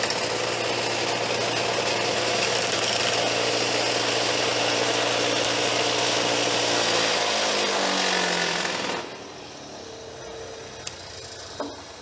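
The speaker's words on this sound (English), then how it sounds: "My damn grinder's so far out of balance, it more or less just smacks the burrs off than grinds them." A badly unbalanced angle grinder runs loud and close, grinding burrs off metal with a harsh, throbbing roar, then winds down near the end, leaving a few faint clinks and taps.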